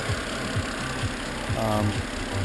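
A BMW engine idling after a valve cover gasket and eccentric sensor replacement, running steady with a low rhythmic pulse and faint ticking, close by and fairly quiet.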